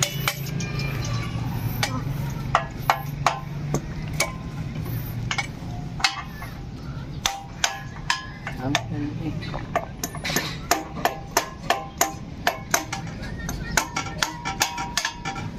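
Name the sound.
hammering a part off a motorcycle exhaust pipe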